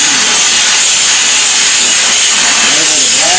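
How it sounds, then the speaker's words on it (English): A steam cleaner on its high setting blasts a bathroom paper towel holder with a loud, continuous, close-up hiss that never breaks. "I'm on high steam right now."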